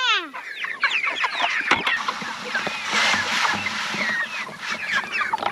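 Busy farmyard chickens cluck and squawk in a dense overlapping chorus, with a brief knock or bump partway through, steady and close throughout.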